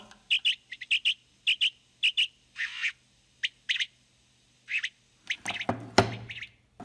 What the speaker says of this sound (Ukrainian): ми вже чуємо щось схоже на спів пташок